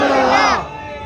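A crowd at a religious gathering in Kolar loudly chants devotional slogans in unison. Voices swell together for about half a second, then drop away to a low murmur.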